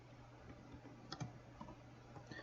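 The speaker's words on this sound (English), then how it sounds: "I'm typing it out so it's more clear for everybody back in on the video" Faint, sparse clicks of a computer keyboard being typed on during a university lecture on signed multiplication, irregular taps over a steady low hum in the room.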